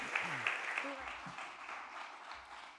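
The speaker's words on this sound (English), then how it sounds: "This is their applause." Audience applause welcoming two presenters at a talk in North Germany, moderate and continuous for a few seconds, with a voice speaking over the start.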